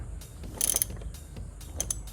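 Cap of a manual oil extractor loosened on a BMW E46 garage job, giving a run of small clicking, ratcheting mechanical sounds with a couple of brief sharper ticks, close and fairly quiet, with no talking.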